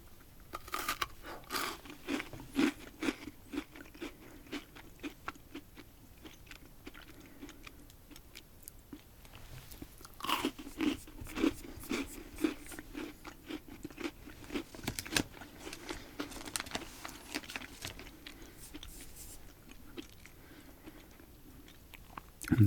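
Crunchy bites and chewing of a milk chocolate-covered cookie, close and crisp, with repeated crackling snaps across the whole stretch and no talking.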